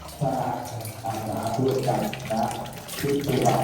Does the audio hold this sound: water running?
yes